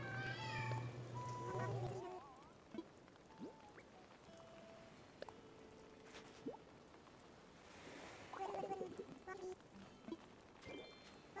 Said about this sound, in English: if you hear a cat yowling in the background, that is Garfield